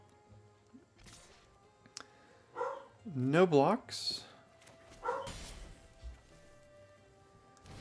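A dog barks indoors in a short, loud volley of several barks in the middle, with fainter yelps afterward, while someone talks quietly before and after.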